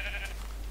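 A single sheep bleat, synthetic and game-like, heard over a steady low electronic hum.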